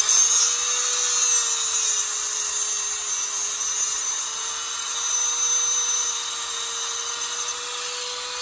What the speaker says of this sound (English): you grab your tungsten grinder and cut it on